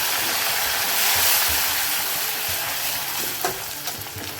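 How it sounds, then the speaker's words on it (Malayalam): Garlic, green chili and curry leaves sizzle loudly in a pan, a dense close frying hiss with a few stirring knocks toward the end. "നമ്മുടെ വെളുത്തുള്ളിയൊക്കെ നല്ലതുപോലെ വഴന്നിട്ടുണ്ട്"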